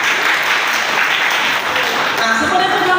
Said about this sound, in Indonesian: Ada tepuk tangannya di masyarakat.